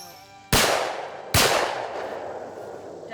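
Two loud shotgun blasts at a Wisconsin clay shoot ring out about a second apart, each a sharp crack followed by a long rolling outdoor echo.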